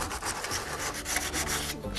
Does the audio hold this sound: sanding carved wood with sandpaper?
yes